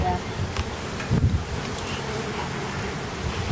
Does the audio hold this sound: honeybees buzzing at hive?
yes